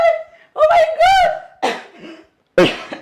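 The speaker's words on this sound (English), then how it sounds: "You see now that you're coughing? Coughing is not good for pregnant women." A woman gives a couple of short, harsh coughs close by, after a brief strained vocal sound, with a pause between them.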